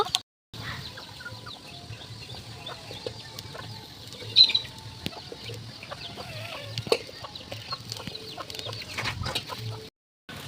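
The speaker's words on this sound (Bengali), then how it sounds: "ওইদিকে দিদা মুরগিকে খাবার দিচ্ছে দেখো কত মুরগি" Chickens being fed cluck on and off in short, scattered bursts over a low outdoor background, with an occasional sharper squawk.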